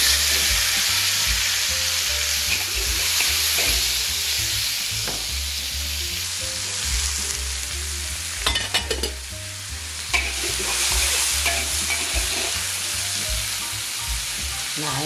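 Mushrooms and tofu puffs being stir-fried in a pan, a loud continuous sizzle with a low rumble underneath and occasional scraping stirs, close and steady throughout.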